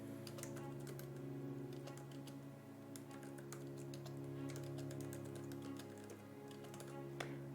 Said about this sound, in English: Let me try actually typing.